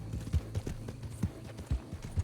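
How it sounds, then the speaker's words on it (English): Horse hooves clip-clopping in Red Dead Redemption 2, a steady uneven walking rhythm of soft low thuds, close and moderately loud, with no talk over it. "Okay, there's a horse."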